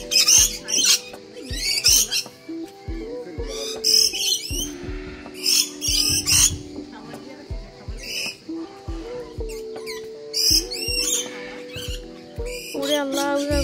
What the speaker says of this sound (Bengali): কত পাখি এখানে,